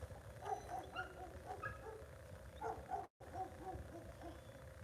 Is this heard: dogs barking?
yes